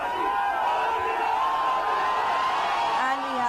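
A large crowd cheers and whoops wildly at Mandi House metro station in Delhi during a prime ministerial visit, a continuous loud roar of overlapping shouts close by.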